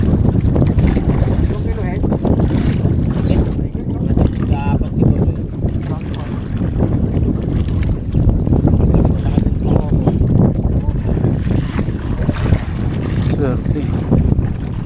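Motor-driven fishing boat running on the water off Tanza, Cavite, its engine a loud continuous rumble mixed with wind buffeting and splashing, with voices talking now and then.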